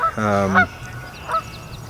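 A Canada goose gives a loud, drawn-out honk, followed a moment later by a shorter, fainter second honk against quiet outdoor background.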